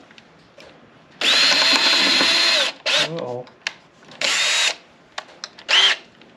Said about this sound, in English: I'm gonna go back and pre-drill a hole through this board.